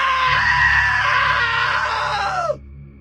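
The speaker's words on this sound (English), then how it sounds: "Now that was a great scream." A long, loud scream in the video game What Remains of Edith Finch, holding steady for over two seconds before cutting off sharply.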